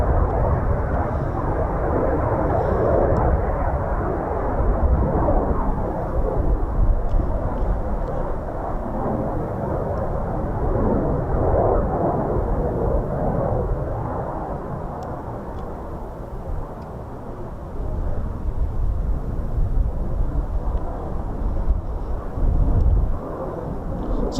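Military jet on a low approach over the runway at RAF Coningsby, a steady, loud broadband roar that holds for the whole stretch, swelling slightly in places with no break, and no voices over it.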